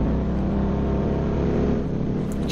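A stolen car drives off in a 1954 film, its engine a steady, loud low rumble that holds evenly throughout with a slight rise near the end, no voices over it.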